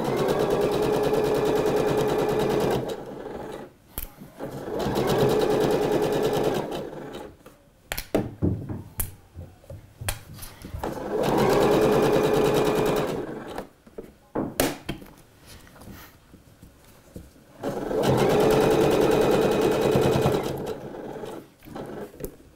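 Sewing machine running a classic straight stitch along a dress hem, in three long steady bursts of fast rhythmic needle chatter separated by quieter pauses with small handling clicks and rustles.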